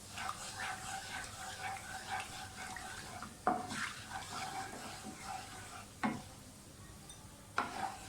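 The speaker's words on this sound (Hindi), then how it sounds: "थोड़ा सा फ्राई कर दें साबुत मसालों को।" Whole spices fry briefly in cooking oil in a pan, a faint, low sizzle broken by a few sharp clinks of a utensil against the pan, heard close with no speech.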